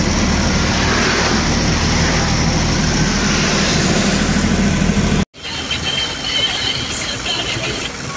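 Vehicles crawl in a traffic jam on a mountain ghat road during a Sangli to Gujarat road trip, a loud steady engine and road roar heard from inside a vehicle, broken by a brief cut before quieter rumble resumes.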